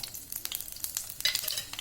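Crackling, popping sizzle of spices frying in hot oil for tempering a mushroom masala, close and continuous with sharp little bursts throughout.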